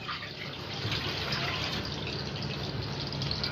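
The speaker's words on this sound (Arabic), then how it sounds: "نملي ميه تاني للرز، عايز حبه ميه كمان" A tap runs steadily into a pot of water for cooking rice, a constant soft hiss and splash heard close and fairly quiet, with no voices.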